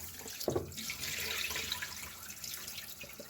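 Rinse water drains from washed rice in a kitchen sink, a steady soft splashing trickle with a brief louder pour near the start.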